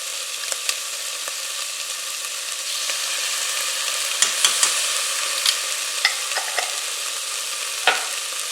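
Garlic sizzling in a soup pot for Italian meatball pasta soup, a steady hiss of frying oil with sharp crackles and stirring clicks scattered through, close and unbroken by talk.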